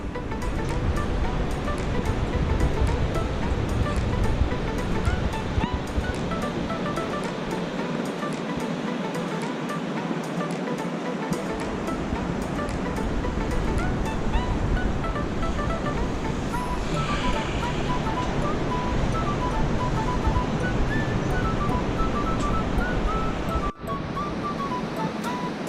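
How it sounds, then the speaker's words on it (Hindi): The Yamuna river rushes alongside a small waterfall on the Yamunotri trail, a continuous loud wash of flowing water with shifting turbulence and a brief handling knock near the end. "साथ के साथ यमुना जी बहती, एक छोटा सा वाटरफॉल भी आ रहा है"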